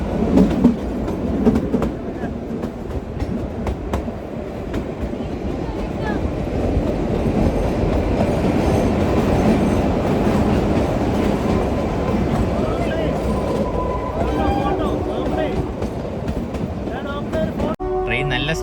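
The Shimla to Kalka toy train rolls slowly along its rails with a continuous rumble and faint rhythmic clatter, heard from inside the carriage as people talk over it.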